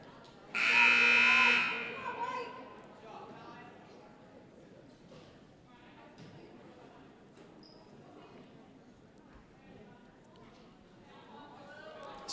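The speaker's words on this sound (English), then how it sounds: "There's the buzzer" A long, loud basketball buzzer sounds once in a high school girls' gym, marking the end of a timeout, then gives way to crowd chatter and a commentator talking over the arena.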